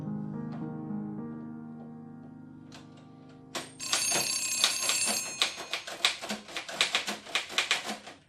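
A home telephone bell starts ringing after a low sustained tone, then repeats in rapid, insistent bursts that grow louder and carry on to the end with no one speaking.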